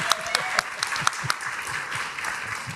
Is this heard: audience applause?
yes